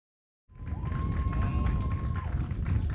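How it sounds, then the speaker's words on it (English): A crowd at a girls' high school soccer game at Durfee claps and cheers after a short silent start, forming a broad, moderately loud roar with scattered claps and a whistle-like tone in the middle. "Hear the crowd cheering here at Durfee"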